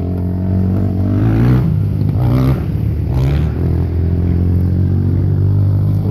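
A Jeep JK off-roader's engine revs hard and close while rock crawling over dirt mounds, a loud sustained rumbling roar that swells and eases with a few clattering bursts.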